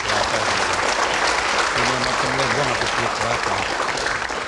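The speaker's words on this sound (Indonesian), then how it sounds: "Kita berikan tepuk tangan." Studio audience on a televised political debate show breaks into sustained applause, a steady dense roar of clapping hands with a voice talking faintly beneath it.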